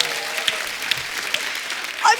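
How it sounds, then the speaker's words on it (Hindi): Audience applause for an artist on a Hindi comedy show set, moderate clapping from a crowd with a speaking voice running over it and a few brief louder spikes. "ये आर्टिस्ट के लिए जोरदार तालियां होनी चाहिए।"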